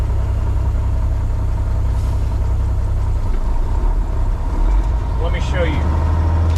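A 2001 Western Star 4964EX truck engine rumbles loud and steady at close range as gears are shifted, with the low drone changing pitch partway through and someone speaking over it.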